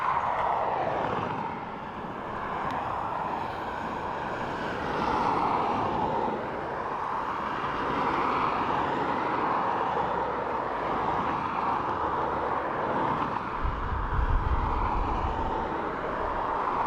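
Boeing 737-800 airliner at Dublin Airport, a broad steady jet engine roar heard from a distance that swells slightly as the aircraft moves.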